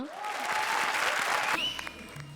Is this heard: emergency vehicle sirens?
no